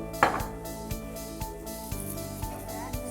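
Chopped garlic is stirred in a pot, with regular knocking spoon strikes about every half second over a faint steady sizzle.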